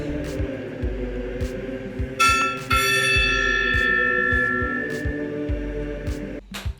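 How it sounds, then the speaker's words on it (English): A ceremonial gong at a beer-tasting roundtable is struck once, a bright shimmering metallic tone swelling then ringing out and slowly decaying over several seconds above a steady background hum. "ring the ceremonial Perfect Beer Roundtable gong"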